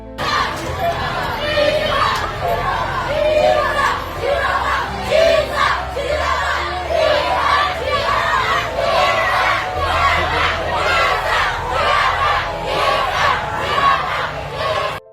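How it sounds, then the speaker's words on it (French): Schoolchildren let out of class crowd together and chant a name in rhythmic unison, a loud, dense mass of young voices with repeated shouted pulses and steady crowd noise. "Des enfants sortis de l'école pour acclamer un président, mais qui scandent le nom d'un autre."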